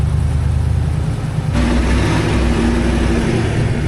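Jeep Comanche pickup truck engine rolling in close by, a low idling rumble that steps up sharply into a louder, broader revving drone partway through and holds steady.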